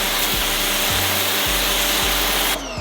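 A Westinghouse ePX2000 electric pressure washer sprays a narrow pin-like stream with a loud, close, steady hiss and rush of water, marked by faint regular thumps, before the spray drops off near the end.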